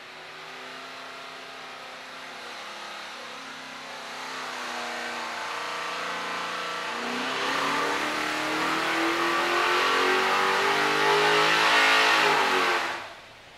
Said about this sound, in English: We finally got it on the dyno with nitrous.